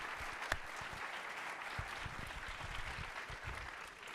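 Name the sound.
audience applause for sponsors and supporters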